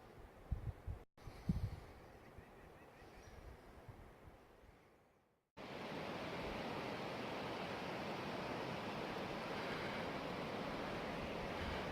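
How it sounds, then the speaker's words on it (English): A steady broadband rush of a river flowing far below in Savage Gulf, constant and moderately loud after a brief quieter stretch with some handling noise at the start. "You can hear the river down in the bottom."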